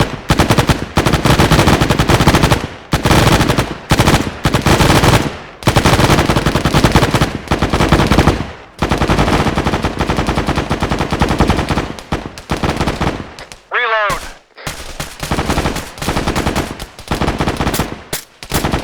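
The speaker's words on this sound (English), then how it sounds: "machine gun, open fire" Machine gun fire during a training exercise: loud, sustained automatic bursts separated by brief pauses, with a short break near the end before the firing resumes.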